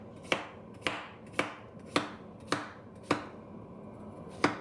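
Cucumber being diced into small cubes with a chopping gadget: seven crisp, evenly spaced chops about half a second apart, close and clear with no talk.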